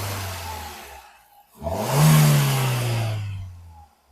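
A 2012 Hyundai i10 1.2 VTVT Magna engine idling quietly, then, after a brief hush, revving up sharply as the accelerator is pressed, holding a loud whirring rev before easing back toward idle.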